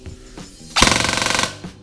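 Ares Amoeba AM013 airsoft gun fitted with a new motor fires a short, fast full-auto burst of about a dozen sharp rattling shots, loud and close after a few quieter handling sounds.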